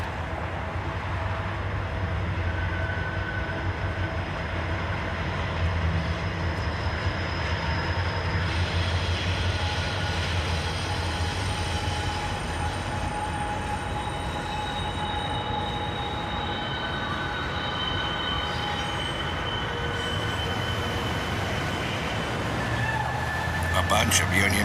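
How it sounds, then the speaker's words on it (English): Freight train hauled by a lash-up of Union Pacific and KCS locomotives rolling past in Indianapolis, a continuous heavy rumble of cars and wheels with faint squealing tones, steady throughout and close by. "A bunch of Union Pacific units, and even a KCS locomotive thrown in the mix."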